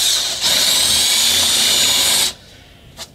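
Power tool beveling a drilled drain hole in a Boston Whaler fiberglass boat transom, with a loud, close, high-pitched whine running steadily for about two seconds before cutting off abruptly, followed by a brief faint knock.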